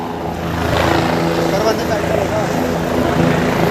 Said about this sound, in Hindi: हेलीकॉप्टर, ये हेलीकॉप्टर है, इससे भी नीचे जा सकते हैं।